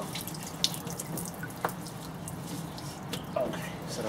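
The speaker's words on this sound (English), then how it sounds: "there's the water spilling out the top now of the head" Coolant water spills and trickles from the top of a Mk2 Golf cylinder head during a coolant change, a steady faint splashing wash with a few small drips, no talk.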